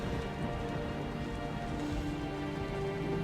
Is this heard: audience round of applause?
no